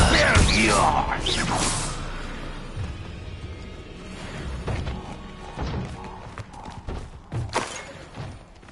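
Incendio and Confringo spells cast in Hogwarts Legacy, heard as a loud whooshing burst up front, then scattered thuds, crashes and swishes of combat at moderate level, with faint voices in the background.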